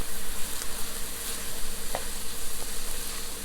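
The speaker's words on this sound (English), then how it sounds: "Now I'm going to add my green onions because I want to cook those down." Sliced green onions sizzle steadily in a hot pan, a close, even crackle with a few small pops and no voices.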